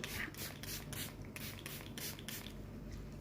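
Short bursts of 75% rubbing alcohol sprayed over a tissue culture bottle, about eight quick hissing squirts in an uneven rhythm, close and quiet with no talking.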